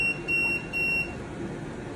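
Konnected SmartThings home alarm sounding its entry-delay warning: a run of steady, high electronic beeps, two to three clear pulses, close and fairly loud over a low room hum.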